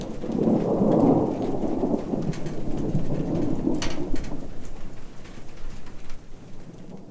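A thunderstorm arriving as the season's first, heard from under a porch: loud rolling thunder rumbles over steady rain pattering on surfaces, with heavy downpour filling the background throughout.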